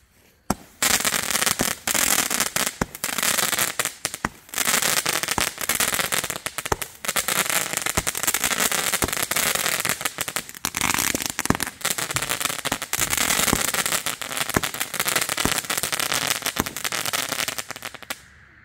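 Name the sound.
Dakota Crackler firework crackling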